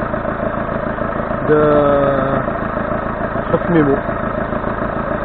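A 2008 Citroën C5 engine idling during an oil-level check, a steady mid-pitched hum running under a voice, with brief higher tonal sounds midway.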